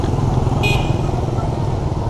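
Constant rumble of motorcycle traffic close by on a street in Hanoi, Vietnam, engines droning steadily with a brief horn toot partway through.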